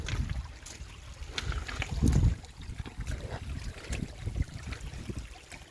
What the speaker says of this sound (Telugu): సల్ఫర్ నీళ్ళు కొండల కింద నుంచి నీళ్ళు వస్తున్నాయి